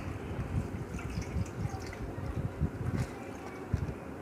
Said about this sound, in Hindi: अब हम इसे छन्नी में डाल लेंगे और इसका पानी निकाल लेंगे।